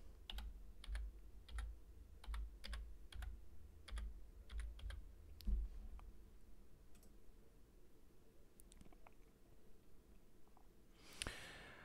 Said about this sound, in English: Let's type in the word ordinance.